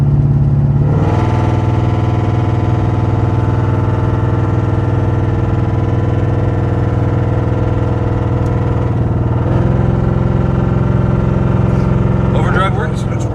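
A police car's engine misfires while driving through the gears, a loud steady harmonic drone with a rough uneven stutter and a shift in pitch partway through.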